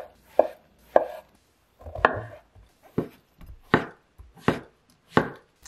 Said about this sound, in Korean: 새송이 버섯이에요. 반으로 자른 다음 어슷썰게 해줄게요.